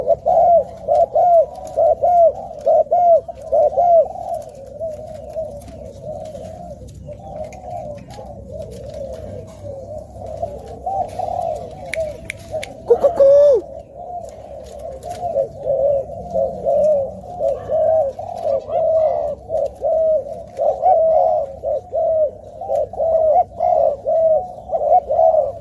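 Pet dove or pigeon cooing steadily and close, a repeated rolling coo phrase running through the whole stretch with a brief rustle midway, no talk.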